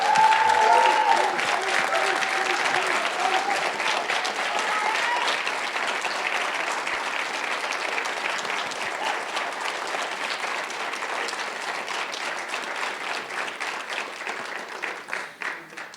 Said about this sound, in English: everybody give them one big round of applause